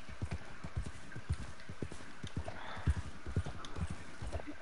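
Horse hoofbeats in the open-world game Red Dead Redemption 2 Online, a steady galloping clip-clop rhythm of many close, evenly spaced thuds running throughout under a faint wash of ambient background.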